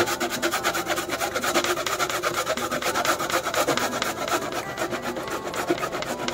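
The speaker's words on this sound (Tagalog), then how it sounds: "kailangan natin magtiyaga mag-ad-ad para lang magawa natin ang ating merienda" Cassava is grated by hand on a grater, a continuous rapid rhythmic rasping of close back-and-forth strokes at steady loudness, with no talking.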